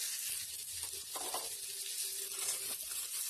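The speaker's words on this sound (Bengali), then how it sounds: "ওটাকে একটু ফ্রাই করে নেওয়ার পর আমি টমেটো কুচি এবং কাঁচা লঙ্কা দিয়ে দিলাম" Ginger, chopped tomato and green chili sizzle in hot oil in a pan for a Bengali fish-head and banana-flower dish, a steady close hiss with faint stirring scrapes.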